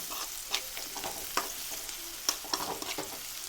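Ingredients sautéing in a pan with a pinch of salt while making kozhiyada, a Kerala snack: a steady soft sizzle with stirring scrapes and a few sharper clicks of the spoon against the pan, close and moderately quiet, with no voices.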